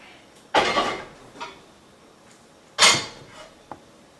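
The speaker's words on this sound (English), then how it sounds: "I'm going to remove the lid." Lid lifted off a bread pot of baking homemade bread, two clattering scrapes of lid on pot a couple of seconds apart, each followed by a lighter clink, close and clear against a quiet room.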